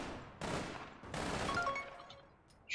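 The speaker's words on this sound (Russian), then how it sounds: "Эта пушка стреляет по 3 патрона." A gun in the online game APB Reloaded fires in short three-round bursts, two rapid loud volleys in quick succession with a brief gap between them, followed by a fainter tail.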